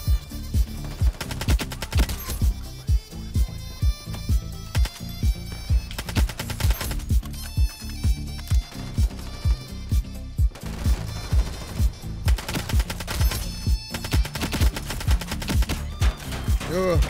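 Rapid assault rifle fire in the video game Ironsight, steady loud bursts of evenly spaced shots that repeat throughout with only short breaks between them.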